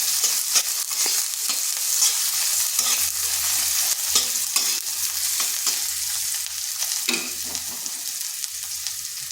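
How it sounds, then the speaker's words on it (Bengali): Chopped onion hits hot oil with cumin in a pan, a loud, steady sizzle and fry with scraping stirs clinking now and then, close up and without talk. "দিয়ে দিচ্ছি একটা পেঁয়াজ কুচি।"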